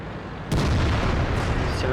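A tank cannon fires once in World of Tanks, a sudden heavy boom that breaks the quiet and is followed by a rumbling tail, with a second fainter crack near the end.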